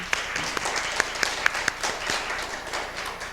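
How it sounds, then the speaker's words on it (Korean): Audience applause for panelists at a disaster resilience seminar, a continuous wash of clapping from many people with a few sharper, closer claps standing out near the start, steady at moderate loudness. "우리 토론자들께 다시 한번 큰 박수 부탁드리겠습니다"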